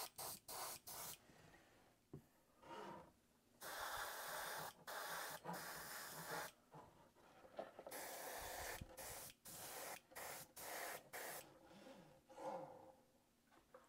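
An airbrush spraying Vallejo burnt umber paint onto model railway track, soft close hissing in repeated short bursts with brief silent gaps between them.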